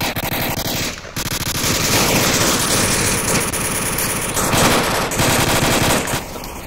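Automatic gunfire in the VR shooter Onward on the Bazaar map, sustained rapid bursts of rifle fire rattling continuously and loudly, with brief pauses between volleys.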